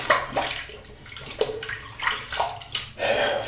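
Running water rinses a custom shaving brush, flowing steadily with splashy surges and brief interruptions as the brush is moved under the stream, close and fairly loud.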